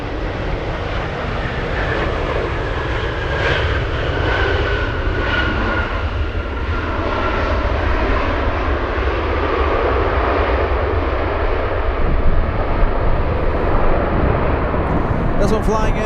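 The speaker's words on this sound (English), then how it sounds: "is this a rare A321? Yes, it is! Rare Airbus coming in." An Airbus A321 airliner arrives at Anchorage airport in gusty wind, a loud, steady engine roar that swells slowly over the whole stretch, blended with wind rush.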